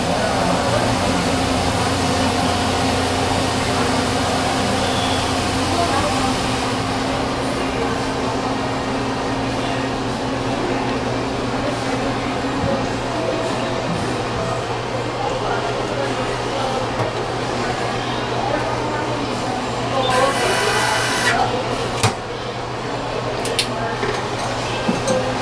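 An optical shop machine cutting a new eyeglass lens from a blank gives off a steady mechanical whir and hum that continues throughout, close and fairly loud. A brief hissing burst comes near the end.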